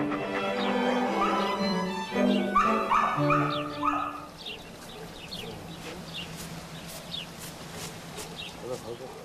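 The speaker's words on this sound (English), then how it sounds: "a collection of pedigreed dogs, housed in kennels kept immaculately clean." Pedigreed dogs housed in kennels barking, yipping and whimpering, partly mixed with a voice early on, then continuing alone at moderate distance.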